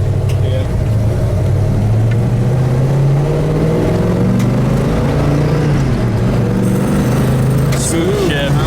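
A 1970 Chevelle V8 fitted with a factory Delco part and a 4-speed Hurst shifter drives steadily, its low engine drone rising and falling through smooth gear changes, loud and close from inside the car.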